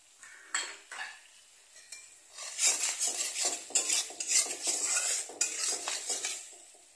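A spatula stirs and scrapes against a pan in uneven bursts while salted mustard and poppy seed paste is sautéed for a singi fish curry with pumpkin shoots. The scraping is close and fairly loud, with quieter gaps between strokes.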